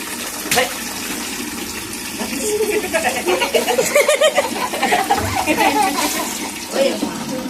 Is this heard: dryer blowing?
no